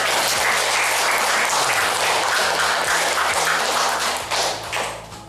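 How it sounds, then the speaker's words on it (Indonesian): Students in a classroom during an Islamic studies lesson clap together in a brisk, dense burst of applause that tapers off near the end, with a few thuds and taps mixed in. "Tepuk tangan"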